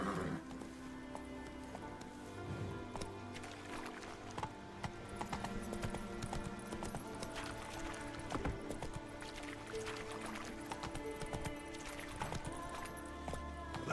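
Roach, Geralt's horse in The Witcher 3, gallops with continuous rhythmic hoofbeats that stay moderately loud and steady across the whole stretch, with a faint whinny and light background ambience.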